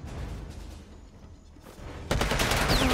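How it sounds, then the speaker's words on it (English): Gunfire in the video game Predator: Hunting Grounds, a stretch of low rumbling shots that breaks into a louder, dense burst of rapid fire near the end, with no one talking. "What are you shooting at, bro?"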